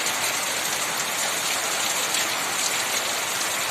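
Heavy monsoon rain in the Shravan season pours steadily, a dense, even roar of drops close by with no break and no voices.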